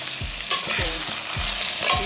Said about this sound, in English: Saute them for a while until both sides turn into golden yellow brownish color.